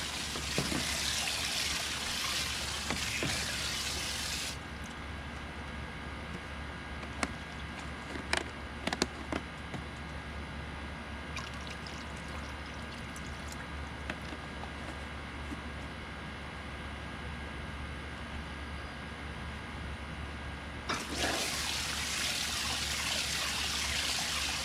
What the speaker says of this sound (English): Let's just fill it up all the way here so it can soak and get bleach on there.